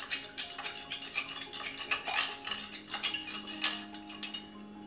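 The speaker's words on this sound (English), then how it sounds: "now I'm just going to give it a good stir" A spoon clinks and scrapes rapidly against a bowl while stirring homemade salad dressing, a close, busy run of light metallic taps with no talking.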